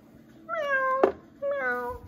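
A voice imitates a lost kitten with two drawn-out, high-pitched meows separated by a short pause, with a brief sharp knock heard between them.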